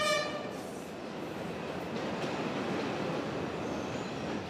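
A train pulls into a station in Sri Lanka with a loud, steady rumble and rattle of rolling wagons, with a brief horn-like tone and wheel squeal at the start.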